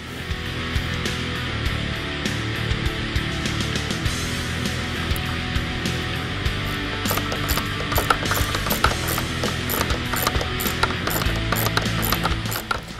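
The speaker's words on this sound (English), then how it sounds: "Reinstall the bolt securing the headlight." Ratchet tightening the bolt that secures a car headlight, a steady run of dense mechanical clicking that builds in intensity, close and alone with no talking.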